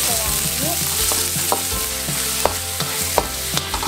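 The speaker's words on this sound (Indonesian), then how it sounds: "Nah, ini kita tumis sampai wangi" Minced shallots, garlic and the white part of spring onion sautéing in hot oil, a steady loud sizzle broken by sharp, repeated spatula scrapes and taps against the pan.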